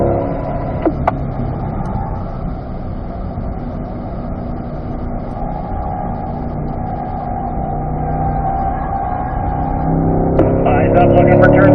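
A C8 Corvette accelerates down a straight on the Spring Mountain Raceway circuit, its engine holding a steady loud drone that swells near the end, while a driving instructor talks over it.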